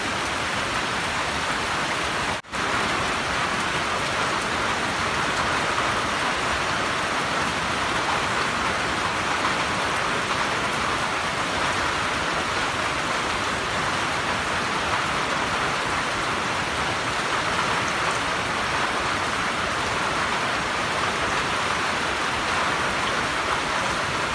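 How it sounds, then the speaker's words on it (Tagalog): Heavy rain pours steadily and loudly in a forest, a dense unbroken hiss of drops falling on leaves and ground. "Malakas pong ulan."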